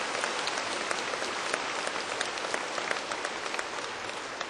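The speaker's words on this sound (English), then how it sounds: "Let's give our parents and family members a round of applause." Sustained applause from an audience honouring parents and family members at a national event, a dense, even patter of many hands clapping without any voices on top.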